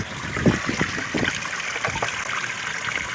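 Water splashes and trickles inside an underground cement sump basin fitted with a submersible pump, close and uneven, with intermittent gurgles over a steady flowing wash.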